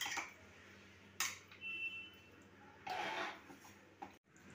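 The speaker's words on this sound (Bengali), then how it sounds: "ফ্রাই প্যানে দিয়ে ভালো করে আমি নেড়ে নিলাম" Potato noodles stirred in a frying pan with the gas off: a few short scraping and clinking bursts of utensil against pan, close and fairly quiet, separated by brief pauses.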